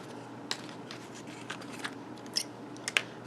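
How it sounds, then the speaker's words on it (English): Scissor snips trimming the glued edge of a paper envelope for a handmade greeting card, about six quiet crisp cuts spaced unevenly over a soft background hiss. "we're just going to take our snips and trim this off"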